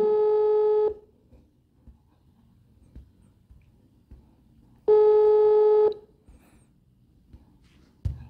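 An unanswered telephone call rings out with a steady ringback tone: two long, even beeps about four seconds apart, each near a second long, with quiet background between them.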